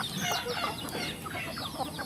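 Indonesian village chickens of Siamese descent cluck and chatter steadily in a noisy farmyard, several birds overlapping at moderate distance with no talk.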